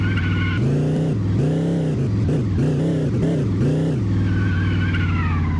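A white motorcycle is ridden in the video game Chicken Gun, producing a loud, steady synthetic engine drone whose pitch rises and falls repeatedly in quick revving swells, alone and continuous.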